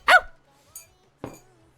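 A person imitates a dog with a few short, sharp barks, one loud yelp up front followed by two quieter ones spaced apart, with near silence in between.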